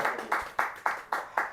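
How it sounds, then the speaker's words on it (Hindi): An audience claps for a guest at a New Year 2024 show, heard as about six evenly spaced, sharp claps, close and moderately loud, sounding more like a single person or small group than a large crowd. "जोरदार तालियां एक बार इनके लिए"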